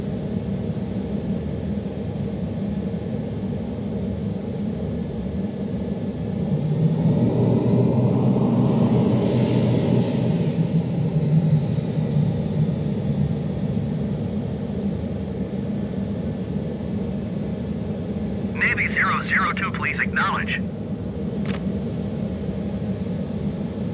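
A Navy F/A-18 in Flight Simulator 2020 taxiing to the gate: a steady loud jet engine rumble and whine that swells briefly midway, with a short burst of crackly radio chatter near the end.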